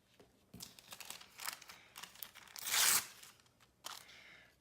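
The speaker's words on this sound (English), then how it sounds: "Put a piece of wax paper over it." A sheet of wax paper is handled over a glitter-glued craft frame, giving soft crinkles and rustles that rise to one louder crumpling swell before quieting, close and faint, with no talk.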